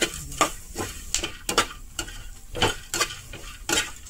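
Pumpkin seeds roasting dry with salt in a pan on a gas stove are stirred steadily, a spoon scraping and rattling them in repeated strokes over a soft sizzle, close and alone.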